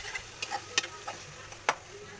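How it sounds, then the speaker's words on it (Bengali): Chili, coriander and cumin powder frying in oil for egg khichuri, a soft low hiss with scattered light ticks and spoon scrapes against the pan, quiet and close. "এগুলো মশলা একসাথে এখন একটু ভেজে নেব ভালোভাবে"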